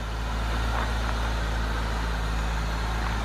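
A lowered Honda Civic EJ or EK engine idles with a steady, loud, low rumble that holds evenly throughout, with no talking.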